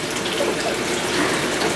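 Tap water runs in a steady, full gush for hand washing at a sink, loud and close, with no voices over it.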